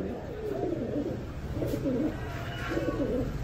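Lahori and Bombay fancy pigeons coo close by in three soft, rolling phrases, with a steady low background murmur underneath.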